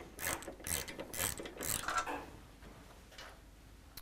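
A ratchet clicks in quick close bursts as front bolts are removed from an S&S Cycle motorcycle tank area, several short ratcheting runs fading to lighter ticks.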